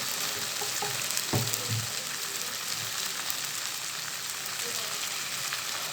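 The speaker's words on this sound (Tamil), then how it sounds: "இது நல்லா வதங்கி வரட்டும்." Chickpea biryani ingredients sauté in a pan, a steady close sizzle and crackle of frying with a brief clatter of stirring partway through.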